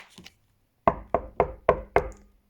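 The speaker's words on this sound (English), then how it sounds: "Knock, knock, knock. It was the door again." Five firm knocks on a door, evenly paced and close, follow a brief murmur of voice at the start.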